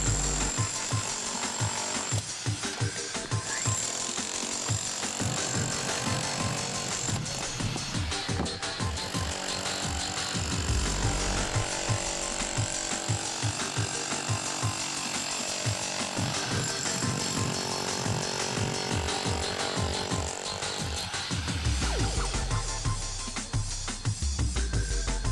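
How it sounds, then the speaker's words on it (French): A jackhammer breaks apart decorative facing brick masonry on a building's first floor, a loud continuous rapid hammering that runs throughout with crumbling and grinding debris mixed in. "puis nous pouvons jouer du marteau-piqueur."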